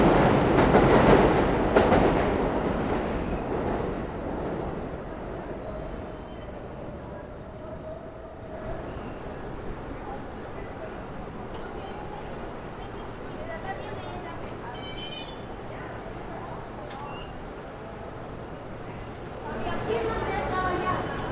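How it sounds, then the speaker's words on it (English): A New York City subway train runs along the track, its wheels squealing loudly at first before the sound settles into a steady rumble with faint clatter, then swells again near the end; a voice may be briefly heard. "ending it off with the lovely New York City subway"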